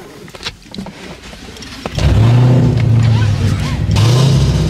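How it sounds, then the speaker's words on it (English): A 1000-horsepower Dodge Hellcat with an exhaust leak, heard from inside the car: after a few seconds of quiet cabin sounds, a loud, deep exhaust rumble starts and drones on steadily. "That's definitely an exhaust leak."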